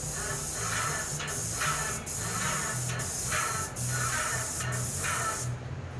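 A Tritech airless spray gun applying Renner wood coating onsite gives a loud, steady hiss that surges and dips in a regular rhythm as the gun sweeps back and forth, then cuts off near the end.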